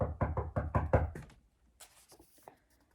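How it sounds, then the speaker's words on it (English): Five firm, evenly spaced knocks land on a wooden cabin door, close and resonant, followed by faint rustling and small taps. "She used all her muscles to knock on the door."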